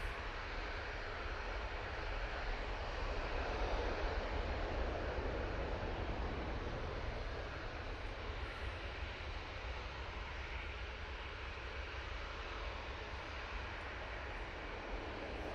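A TUI airliner departs Manchester Airport, its jet engines making a deep, continuous rumbling roar, fairly faint and distant, that stays even throughout with wind-like noise mixed in.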